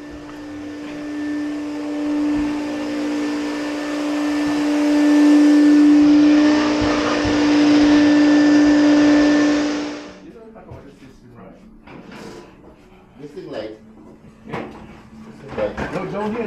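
A household vacuum cleaner drones steadily and loudly with a strong tonal hum for about ten seconds, then cuts off, leaving quieter room noises and scattered knocks afterward.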